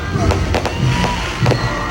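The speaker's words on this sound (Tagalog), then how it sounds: "magarbong fireworks display" Fireworks burst repeatedly at a birth anniversary celebration in Ilocos Norte, sharp pops and crackles recurring every half second or so over a steady background rumble and crowd noise.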